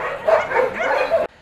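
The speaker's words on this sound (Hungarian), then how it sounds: "Ő itt Láncos, a 2 éves Staffordshire Terrier, akinek a nyakán még mindig jól látszanak az elmúlt hónapok borzalmai" A two-year-old Staffordshire Terrier barks and yips in a quick run of close, loud barks with a whimpering edge, then falls abruptly quiet.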